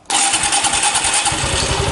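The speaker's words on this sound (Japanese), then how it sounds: "エンジンかけちゃいましょうか" A Honda Super Cub 110 motorcycle with the new engine starts up abruptly, then settles straight into a steady, close, pulsing idle with no talk.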